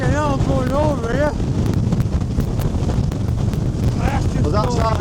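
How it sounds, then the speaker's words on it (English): Strong wind buffets the microphone at Stanage Edge, a loud continuous rumbling roar with gusty surges, while people talk briefly over it. "it's windy, isn't it?"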